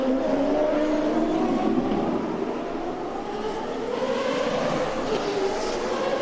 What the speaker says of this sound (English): Jimmy Vasser goes by in the Shell car from Team Rahal.